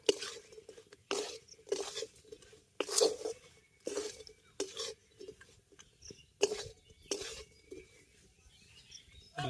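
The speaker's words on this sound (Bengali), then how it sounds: "এরপর ব্রেডটা দিয়ে খুব ভালো করে মিশিয়ে নেব" Bread cubes stirred through caramelized sugar in a pan, giving repeated short scraping, rasping strokes of a spoon against the pan at an uneven rhythm, close and fairly quiet, with no talk.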